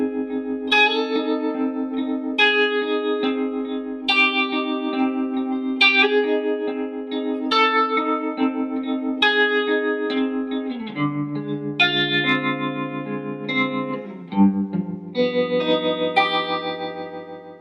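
An electric guitar runs through a Strymon Mobius modulation pedal on its vintage tremolo setting, its sustained, pulsing chords ringing with echo and reverb for a long, steady, close passage, spy-theme in character and without speech.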